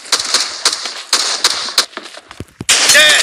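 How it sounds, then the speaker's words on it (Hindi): Shotgun fire in PUBG sounds as several loud, sharp, close blasts spaced apart, followed by brief metallic clacks and a final burst, with no voices. "ये शॉट गन सबसे खतरनाक है"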